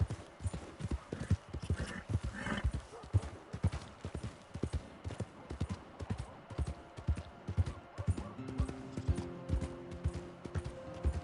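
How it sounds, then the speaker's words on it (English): Horse hooves gallop in Red Dead Redemption 2 with a fast, steady clip-clop close up throughout. A few sustained tonal notes enter near the end. "My horse!"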